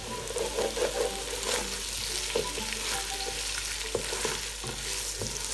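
Chopped capsicum sizzles with peas in a hot oiled pan for vegetable pulao, a steady close frying hiss broken by the scrape and clack of a spoon stirring, no voices.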